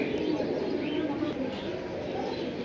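Pigeons kept in a loft coo softly and continuously amid a busy murmur of birds, with faint voices in the background.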